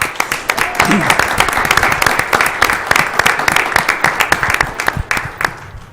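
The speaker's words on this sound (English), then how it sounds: "So a round of applause for our Pima Butte staff." Audience applause at a school district governing board meeting, cheering Pima Butte school staff: loud, close, sustained clapping with sharp individual claps standing out throughout.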